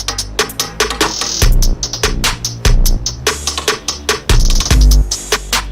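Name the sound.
808 bass heavily distorted through parallel distortion channel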